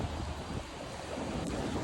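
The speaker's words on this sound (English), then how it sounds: "Super strong wind gusts, 60-mile-an-hour winds." Strong gust-front winds from a severe thunderstorm in Houston roar into the microphone as a dense, continuous buffeting rush with no voices.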